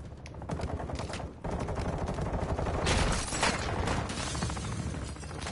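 Sustained automatic gunfire in Warzone 2 DMZ, a dense rattle of rapid shots running throughout, with mechanical clatter mixed in, fairly loud and continuous.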